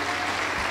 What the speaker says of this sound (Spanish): Aplauso por el Señor Jesús.